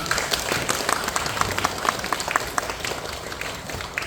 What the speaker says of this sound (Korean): 찬양단을 위해서 우리 옆 사람을 보면서 한번 격려의 박수 하나님께 올려드리겠습니다.